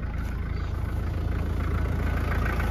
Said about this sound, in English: Here is the engine running like a diesel.